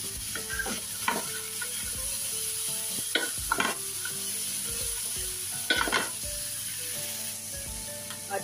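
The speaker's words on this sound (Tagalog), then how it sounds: "i-add natin ang tofu. Yan. Ako na sinasadong haluin." Tofu and vegetables stir-fry in a pan, a soft continuous sizzle broken by several scraping stirs of a utensil against the pan, close and fairly quiet.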